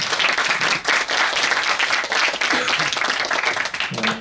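An audience at a lecture event on ChatGPT applauds an expert, dense continuous clapping that stays loud for about four seconds and then thins slightly at the end.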